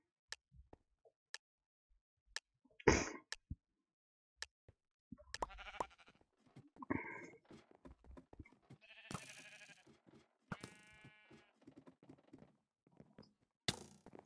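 Sheep bleats in the Sheepwars game come as a few short, scattered calls among clicks, ticks and other game sounds, fairly quiet overall, with no talk over them.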